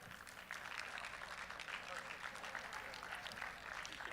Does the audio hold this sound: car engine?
no